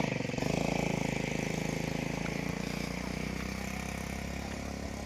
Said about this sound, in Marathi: मशीन तर आता चालू होते